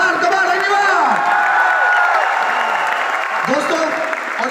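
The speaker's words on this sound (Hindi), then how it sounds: "एक बार जोरदार तालियां पर सिद्धार्थ" Loud, steady applause from a large audience for Siddharth, sustained throughout with scattered cheers and voices mixed into the crowd noise.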